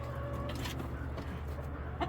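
Egg-laying hens cluck softly nearby in a farmyard, giving a few low, murmuring calls over a steady background hum, with no one speaking.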